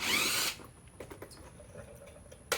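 A power drill whirs loudly for a half second removing a 10mm bolt from a 2008-2014 Kia Soul headlight assembly, then stops, followed by faint clicks and a short mechanical burst at the end.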